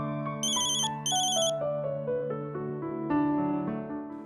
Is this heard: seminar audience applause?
no